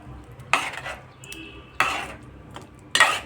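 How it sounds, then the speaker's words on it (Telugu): Three spaced scraping, clattering strokes of a utensil against a pot as cooked dal is mashed, each a short loud burst with quieter cooking sounds in between. "ఇప్పుడైతే నేను మొత్తం కలుపుకుంటున్నాను మెత్తగా చేసుకుంటున్నాను పప్పు"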